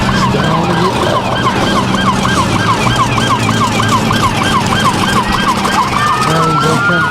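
Fire truck sirens wail loudly and continuously at close range as the trucks roll through a Christmas parade, a rising and falling howl over rumbling vehicle noise.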